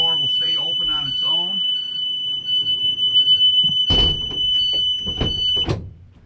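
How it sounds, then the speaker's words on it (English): A school bus rear emergency exit door alarm sounds during a bus drill as a steady, piercing high electronic tone, joined by loud thumps and clatter of the door, with a person talking briefly at the start. "On the rear of the bus there's an emergency exit door which also has an alarm."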